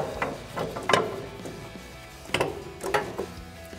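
A ratchet removes a nut at the top of a Toyota 4Runner front strut during a leveling kit install. Short clicking bursts come in several quick runs with pauses between them, close by.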